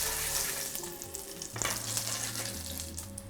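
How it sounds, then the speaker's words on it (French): Cane sugar melts in a hot pan with a steady soft sizzle and occasional light scraping and stirring, fairly quiet, with no voices. "on ajoute un peu de sucre de canne et on va laisser fondre le sucre gentiment"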